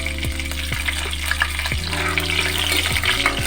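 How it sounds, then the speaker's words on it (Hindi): Green chillies sizzle in hot oil in a pan over a high gas flame while cooking methi aloo sabzi, a steady crackling fry with a few stirring scrapes and clinks. "अब इसमें हम हरी मिर्च डाल देंगे।"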